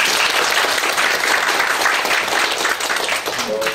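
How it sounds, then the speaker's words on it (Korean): Loud, dense audience applause fills the room after a university lecture on mathematics education ends, steady broadband clapping throughout with no break. "다시 한번 박수 한번 드리겠습니다"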